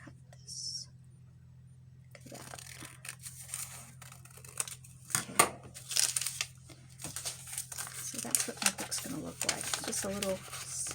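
Paper being cut with scissors for a handmade spring bird journal, close irregular snips and rustles spread over several seconds, with a faint steady background hum.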